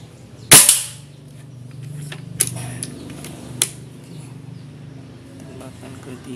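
One sharp, loud shot from an air rifle firing 4.5mm Baracuda Match pellets cracks out near the start, followed by a couple of fainter clicks against a quiet background hum.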